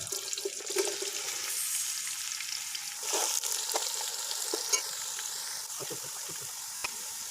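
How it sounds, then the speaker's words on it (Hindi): Small chopped onions fry in hot oil with a soft, continuous sizzle and occasional stirring clicks, and faint talk is heard in the background. "और साथ ही हम इसमें अंदर प्याज, ये जो मैंने काटे थे छोटे छोटे, इसको अंदर डालने लगे"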